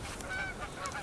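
Geese honking near a river during pike fly fishing, a few short nasal honks at moderate distance over faint outdoor background.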